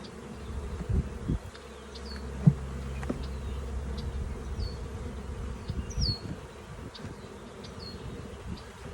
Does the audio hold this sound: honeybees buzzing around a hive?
yes